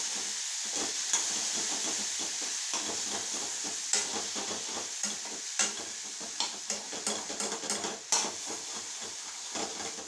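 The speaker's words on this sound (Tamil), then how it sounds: "இதை நல்லா வதக்கணும்." Okra stir-frying in a pan with chili and sambar powder over a low flame, a steady sizzle and hiss with frequent scraping stir strokes throughout, close and continuous with no talking.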